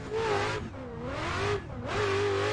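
Adam LZ's Ford Mustang RTR race car, on a bass tune, revs hard through third gear on the Lime Rock Park inner track, its engine note rising and falling in three close, loud pulls with brief lifts between.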